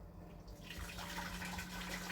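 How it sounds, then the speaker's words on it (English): Boiled water poured from a kettle into the open pot of a Ninja 15-in-1 pressure cooker, a steady splashing pour that builds after a quiet start and runs continuously, close and fairly soft. "All we're going to do is open the lid, and we're going to add some water."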